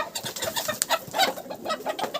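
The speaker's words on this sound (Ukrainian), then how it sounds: "Малі горобці!" Young sparrows chirping and twittering close by in quick, irregular bursts, with soft fluttery calls overlapping.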